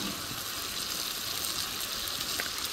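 Chopped tomato tipped into a frying pan of browned onion and spices for a bhetki fish-bone curry, a steady close sizzle and hiss of frying running throughout without a break.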